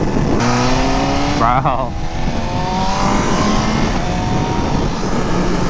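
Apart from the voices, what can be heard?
BMW M1000RR motorcycle engine revving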